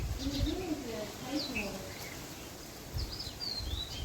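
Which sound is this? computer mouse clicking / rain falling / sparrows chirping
sparrows chirping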